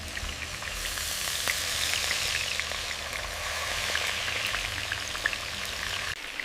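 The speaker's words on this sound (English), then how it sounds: "Listen to that sizzle." Steady, crackling sizzle of marinated beef stir-frying in a hot pan on high heat, with constant spitting pops, close up and without any talk.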